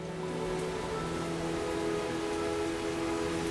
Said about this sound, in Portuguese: e cai, finalmente, em forma de chuva